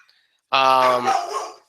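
A dog gives a single loud, close bark that rings briefly and trails off, after a moment of near silence.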